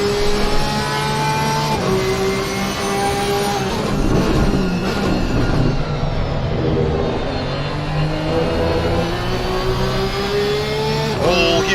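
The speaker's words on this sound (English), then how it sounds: "Listen to the gear symphony as he goes down in that gearbox." A GT3 race car at the Zolder circuit, loud and close, shifting down through its gearbox, with the engine pitch stepping down between gears across a continuous roar.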